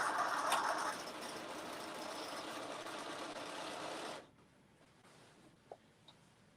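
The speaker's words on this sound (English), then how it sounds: "I'm sewing the shoulders together is what I'm doing right now" A sewing machine stitches the shoulder seams of a tunic at a 5/8-inch seam allowance, a steady close whirring run that stops abruptly after about four seconds, leaving a quiet room with a few small clicks.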